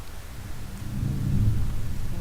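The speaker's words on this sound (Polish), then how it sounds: "O, jak zwykle burza" A Minecraft thunderstorm rolls in as a low, muffled rumble that swells over a couple of seconds, with faint rainy hiss on top and no voices.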